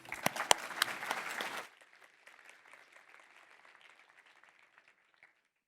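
An audience greets speaker Andy Fundinger with a burst of close, dense clapping at a conference talk, cutting off abruptly after under two seconds and leaving a few scattered, fading claps.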